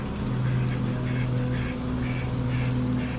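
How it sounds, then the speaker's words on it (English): Two ducks call near a pond, a series of repeated nasal quacks and honks at a moderate distance, heard from a patio over a steady low hum. "that's two ducks who've been visiting us for the past probably maybe couple weeks"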